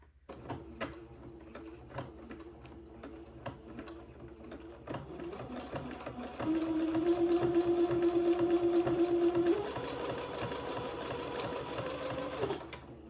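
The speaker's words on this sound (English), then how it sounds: "And then I'm going to zigzag the fold of the gathered fabric to the entre deux." A sewing machine zigzag-stitches the fold of gathered fabric onto entre deux lace for a Christmas dress, whirring with a rhythmic mechanical clatter in short runs, then a longer, louder steady burst of stitching up close.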